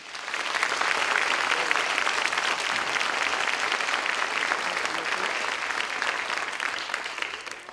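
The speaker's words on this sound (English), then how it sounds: "let's give them a round of applause for what they've done" A crowd applauds graduating firefighters of classes 103 and 104 at their graduation ceremony, a sustained, even wash of clapping from many hands that fades slightly toward the end.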